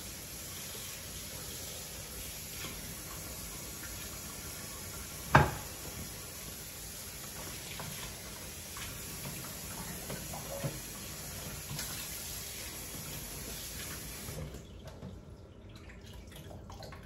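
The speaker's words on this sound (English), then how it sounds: "I need to drain some of the water off before I add the seasoning" Water is drained off seasoned fish in a bowl while cooking Jamaican brown stew fish, a faint continuous trickle with one sharp clink partway through, then it tapers off near the end.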